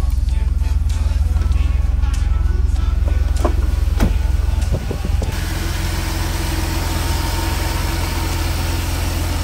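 A Mercedes W124 that has just been started idles steadily with a loud low engine drone, a few clicks and knocks partway through, then the idle settles into a slightly different, even tone.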